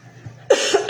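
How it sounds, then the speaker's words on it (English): A single sharp cough bursts out close and loud, followed by a shorter second cough, after a brief quiet hum. "the cough is the cough of release"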